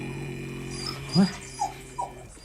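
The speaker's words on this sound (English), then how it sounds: "No, quiet, dog. Let me sleep." A dog whimpers and pants softly nearby, with a few short whines breaking through a quiet, low background.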